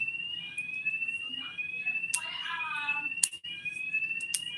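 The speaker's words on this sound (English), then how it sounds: "Oh, it's a fire alarm." A high electronic fire alarm tone sounds continuously, with several brief sharp clicks and a short burst of harmonic warbling partway through.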